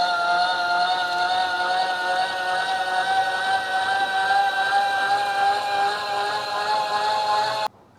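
The button-operated deck lift on a Grasshopper 900D mower raises the deck with a steady, close-up whining hum held for about eight seconds, then stops abruptly.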